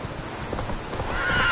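Horse hooves clip-clop in a quick rhythm while the horse neighs, from the game The Witcher 3: Wild Hunt, close and fairly loud with no talking.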